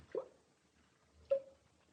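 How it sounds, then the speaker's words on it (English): Water dripping somewhere inside the wall of a still, narrow-street lodging room in Edinburgh, staged as a radio drama effect: two soft, separate drips roughly a second apart in a quiet room, with no talk. "Someplace in the wall there was a drip. When the room was still, when there was a lodger in it, asleep, that was the sound."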